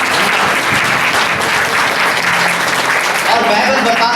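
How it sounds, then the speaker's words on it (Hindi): Loud, sustained clapping from a church congregation fills the whole stretch at close range, dense and steady with a slight rise near the end; voices mix in with the applause. "जोर से ताली बजाएंगे उस परमेश्वर की।"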